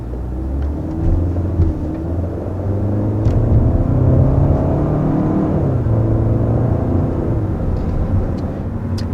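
A 2021 Kia K5 with the 1.6 turbo engine drives along, a steady low rumble of engine and road noise with a gentle rise in pitch, heard from inside the cabin.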